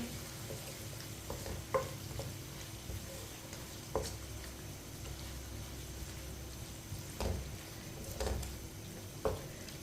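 Garam masala is stirred into tinda (round gourd) sabzi in a pan, a quiet low sizzle with soft scraping and periodic spoon knocks against the vessel.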